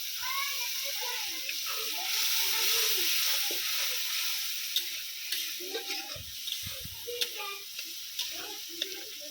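A spice masala with cashew paste and a splash of water sizzles steadily in a pan, a hissing bed with occasional stirring clicks and scrapes close by, faint bubbling pops throughout.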